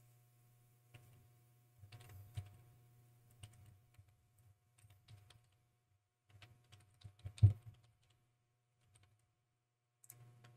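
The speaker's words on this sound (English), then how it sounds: "All right, so I'm gonna type it in." Typing on a computer keyboard, sparse quiet key clicks in short irregular clusters with pauses between, one louder tap near the end, no voice.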